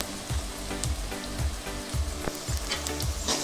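Coriander powder and chili powder being stirred into softened onions in a pan for green mango curry, with a steady sizzle and rhythmic scraping strokes roughly every half second, close and moderately loud.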